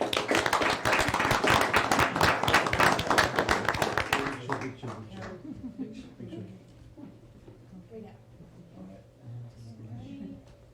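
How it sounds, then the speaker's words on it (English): Applause from the audience at a mayor and council meeting, brisk and fairly close for about four seconds, then dying away into scattered claps and people talking in the room. "let's give them a big round of applause."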